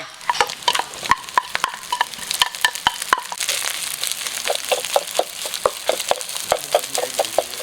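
Rice stir-fried in a pan with crab fat for a crab fried rice: sharp repeated spatula scrapes and clacks against the pan over a steady sizzle, close and busy, with no talking.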